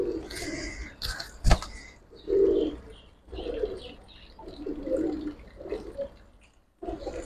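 A Giribaz pigeon coos in a series of soft, low, repeated calls, broken by one sharp click partway through, heard close and fairly quiet.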